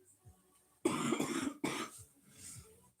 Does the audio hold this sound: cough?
yes